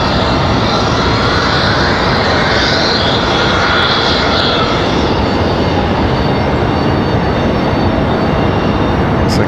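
Beechcraft King Air twin-engine turboprop passing overhead at night near Raleigh-Durham International Airport, a steady broadband engine roar that fills the whole stretch without a break, loud and continuous with no voices.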